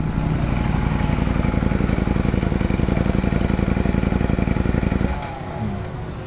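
Ducati Monster naked motorcycle engine running at a test ride event, a loud steady close rumble that drops to a quieter idle near the end.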